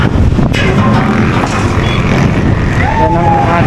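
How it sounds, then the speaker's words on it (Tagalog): Strong wind buffets the microphone outdoors at a hybrid solar panel installation site in GMA, Cavite, producing a loud, continuous low rumble throughout. "Mahangin."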